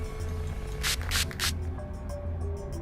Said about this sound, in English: he's gonna use the spray stuff